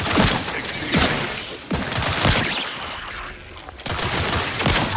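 Gunfire in The Outer Worlds 2 during a firefight, with loud bursts of shots in clustered volleys separated by brief lulls, close and dense, over a busy battle background.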